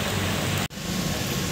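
Steady rain pours down outside an ice plant during an approaching typhoon, a dense, continuous hiss that stays loud and even throughout with only a momentary dropout.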